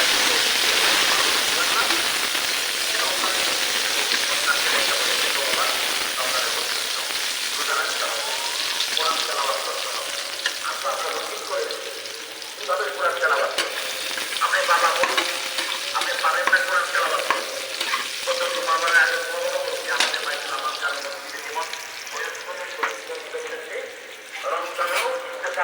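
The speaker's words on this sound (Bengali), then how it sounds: "এখন এই কড়াইতে আমি একটু পেঁয়াজ কুচি দিয়ে দিলাম" Chopped onion frying in a kadai makes a loud, continuous sizzle with irregular stirring scrapes and bursts throughout, close up, with no one talking.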